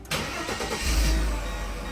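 A 1997 Mercedes-Benz E320 (W210) cranks briefly and fires, then settles into a steady, close engine hum with a deep low rumble that holds to the end.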